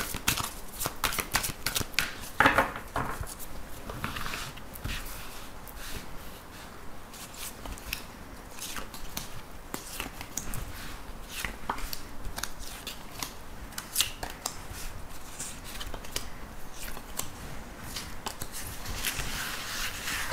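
Tarot cards are shuffled and handled for a reading, with a long run of dense, crisp riffling and flicking that is steady and close, carrying no speech.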